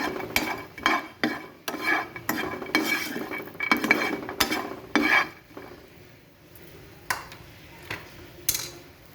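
Vermicelli and dry fruit stirred and lightly fried in a pan, with a series of sharp spoon-against-pan scrapes and clinks over a soft sizzle, irregular and close, thinning out toward the end.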